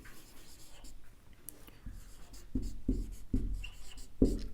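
Pen writing a heading in notes during a Hindi literature class, faint scratching at first, then several distinct louder pen strokes tapping in quick succession near the end, with no speech.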